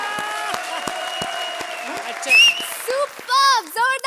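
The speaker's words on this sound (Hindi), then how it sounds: "जोरदार तालियां कृष्णा और सुदेश के लिए" Studio audience applause for comedians Krishna and Sudesh on the Comedy Circus comedy show. It is a steady burst of clapping that rises under loud voices and musical tones, with people talking throughout.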